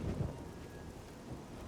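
Rain and thunder in the video game The Elder Scrolls IV: Oblivion, a low rolling rumble of thunder at the start fading into a quiet steady patter of rain, faint and with no talking.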